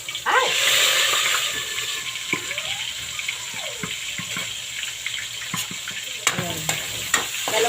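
Milkfish (bangus) frying in hot oil in a home kitchen, a steady close sizzle with sharp pops and crackles and the odd clatter of utensils.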